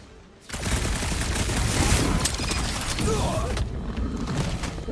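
Gunfire in Marvel's Guardians of the Galaxy, a loud, rapid burst of shots and impacts that kicks in abruptly after a quiet start and keeps up a busy, crackling clatter with some voice mixed in.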